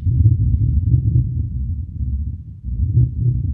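Heavy, deep synth bass rumbles and throbs in slow pulses, with a brief dip before the low pounding returns.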